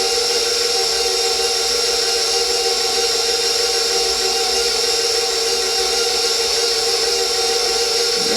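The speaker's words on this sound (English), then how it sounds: "we're just using a very low mixer." An electric mixer on a low setting blends flour into snickerdoodle cookie dough, producing a loud, steady, unbroken whir that lasts throughout.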